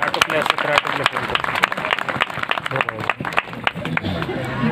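A crowd at a Mahanubhav Datta devotional gathering claps to welcome a revered baba, sharp dense clapping throughout with a lively babble of voices underneath.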